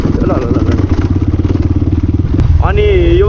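A modified CX250R motorcycle with its dB killer removed idles loud and close in a rapid, throbbing pulse, then a voice cuts in briefly over it near the end.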